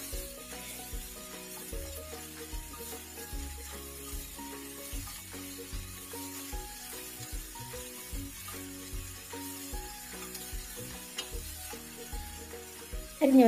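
Jackfruit thoran (chakka poonju thoran) being stirred as it fries in a pan: a soft continuous sizzle with repeated scraping stir strokes, fairly quiet and close, with no talking.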